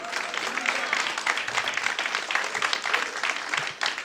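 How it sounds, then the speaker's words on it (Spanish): A congregation at a church sermon breaks into brisk applause, a fairly quiet, steady patter of many hands lasting about four seconds. "Dale un aplauso."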